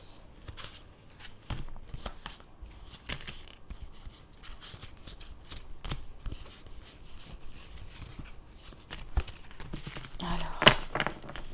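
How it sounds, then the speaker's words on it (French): Tarot cards being tidied and shuffled by hand, soft irregular rustles and light taps spread over several seconds, with a sharper riffle near the end, close and fairly quiet. "je range un petit peu les cartes là parce qu'elles sont un petit peu dans tout le sens"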